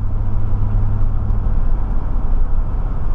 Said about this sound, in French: Alors on entend ce moteur, un bon frôlement, hein, discret